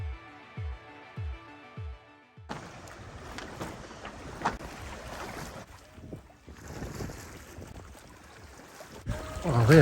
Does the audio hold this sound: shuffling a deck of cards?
no